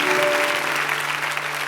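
Loud applause from a church congregation during a service, many people clapping together, tapering slightly toward the end, over a held musical note.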